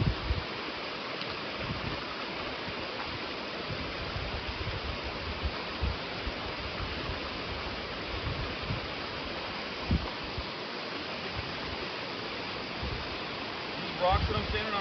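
Dirt Creek flowing during a hiker's crossing on the Ozark Highlands Trail, a dense, continuous wash of rushing water close by, with a few thumps near the end.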